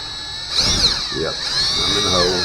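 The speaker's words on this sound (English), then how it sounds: "use the electric drill to start." A power drill whirs in short bursts, its pitch rising and falling as it drives screws into a bass guitar kit, up close with a person talking over it.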